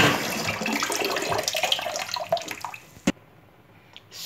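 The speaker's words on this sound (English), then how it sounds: "I'm going to wash these beans." Beans are washed by hand in water, giving close splashing and sloshing that grows busier before dying away, with one sharp knock near the end and then quiet.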